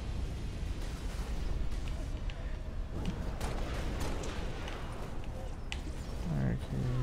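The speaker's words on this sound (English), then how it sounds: "Who is firing at me?" Gunfire and explosive blasts from the Halo Reach video game rumble heavily and nearly continuously, with scattered sharp shots punctuating the dense combat noise under occasional talk.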